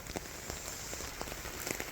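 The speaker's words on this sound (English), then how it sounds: "Oh, it's raining" Rain falls on a garden pond with a fine, steady patter, quiet but even. Scattered heavier drops tick through the soft hiss.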